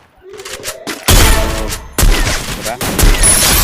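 Sniper gunfire in a video game, loud sharp shots each followed by a long booming tail, about three blasts in close succession after a brief stretch of quieter tones, no talk.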